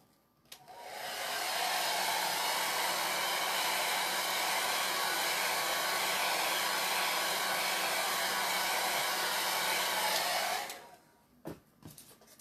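A hair dryer drying a chalk paste transfer on a craft piece blows steadily and loudly for about ten seconds, starting and stopping abruptly, followed by a few faint clicks, with no speech.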